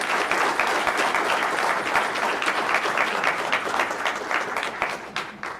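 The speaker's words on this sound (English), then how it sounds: "How about one more round of applause for our chess kids?" A dense, steady burst of applause from a sizable crowd at a school board meeting, many hands clapping continuously for several seconds before easing slightly at the end.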